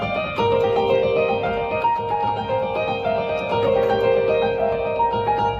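A melodic musical motif for Athena, played in a triplet rhythm, a sustained bright tonal line running continuously and fairly loud with no talking.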